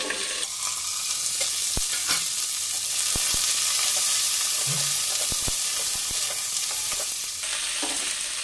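Vegetables fry steadily in a covered pan on a gas flame, a continuous bright sizzle with scattered sharp clicks and pops of the lid and utensils, no voices.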